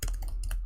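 A computer keyboard is struck in a quick burst of several crisp keystrokes, close up, during coding work.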